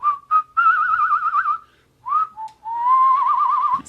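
A Western-style melodic whistle from the film Close Range, loud and clear with wavering vibrato across two long phrases separated by a short pause, no talking.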